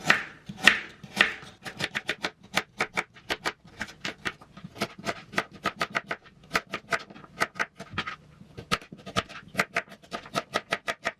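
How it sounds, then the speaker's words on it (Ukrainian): Quick, steady knife chops of vegetables such as carrots and onions on a cutting board, dozens of sharp close taps in an uneven rhythm with brief pauses, no talking. "Овочі нарізаємо."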